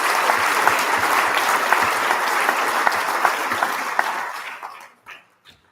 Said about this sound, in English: give a big round of applause to the Bronze Award winners